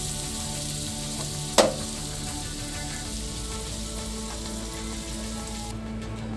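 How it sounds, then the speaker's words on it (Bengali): A little butter goes into a hot kadai and sizzles softly and steadily, with one sharp clink near the start and no talking. "তো সামান্য মাখন দিয়ে দিচ্ছি।"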